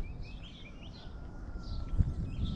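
Birds sing and chirp in scattered phrases beside a quiet road near Sutherland, South Africa, faint against a soft low rumble of open-air background.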